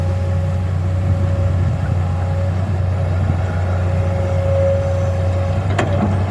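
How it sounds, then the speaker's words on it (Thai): A Kobelco SK200 excavator's Mitsubishi 6D31 six-cylinder direct-injection diesel engine idles continuously with a steady low rumble, a faint whine and a brief sharp click near the end. "เป็นเครื่องยนต์หกสูบนะครับ direct injection"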